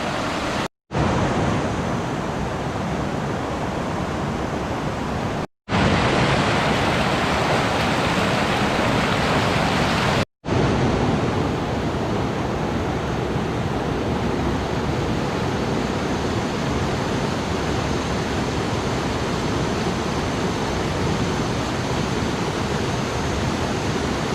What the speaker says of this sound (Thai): น้ำตกคลองไพบูลก็จะเป็นเหมือนคลองไหลผ่านไปอย่างเงี้ยครับ